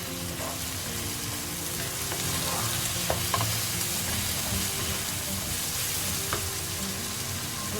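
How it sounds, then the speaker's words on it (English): Chilli chicken sizzles steadily in a hot pan as light soya sauce goes in and gets stirred, a continuous close frying hiss with occasional soft clinks of the utensil. "Now I'm adding the light soya sauce."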